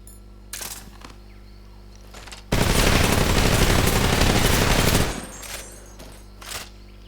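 An AK rifle fires in Metal Gear Solid Delta: Snake Eater as one loud, sustained automatic burst lasting about two and a half seconds, framed by quieter clicks and game ambience.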